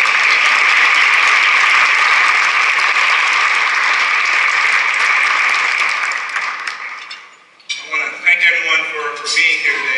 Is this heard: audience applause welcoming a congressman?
yes